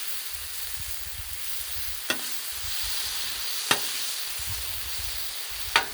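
Chili mac sizzling steadily on a hot griddle while being stirred, a soft continuous fry with three sharp scraping clicks of a spatula against the metal surface, no voices.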